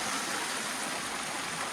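Outdoor stream water flows in a steady, faint rushing wash with no breaks or voices, heard while someone washes their face in it.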